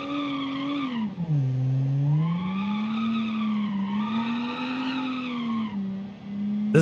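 A 90s minivan in BeamNG braking hard, with a loud, sustained tire squeal whose pitch sweeps down and up in long wavering arcs and holds steady with no voices over it.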